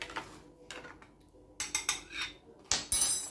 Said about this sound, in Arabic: نحرك شويه